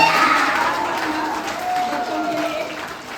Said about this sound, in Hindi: तालियों के साथ में